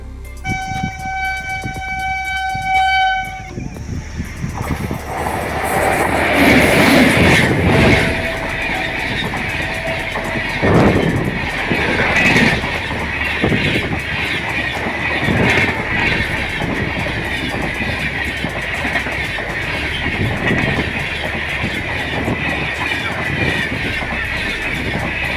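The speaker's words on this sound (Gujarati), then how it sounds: "આ પાટા ઉપર ટ્રેન આવી રહી છે તો હું તમને બતાવું।" A train rolls along a railway track near a cement bridge, its loud continuous rumble and rhythmic clickety-clack filling the whole stretch, with a high horn-like tone at the start before the wagons pass close by.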